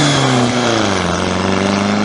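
An air-cooled VW engine running dual 34 Weber carburetors revs close by in a brief, loud burst, its tone easing slightly downward, with no voices.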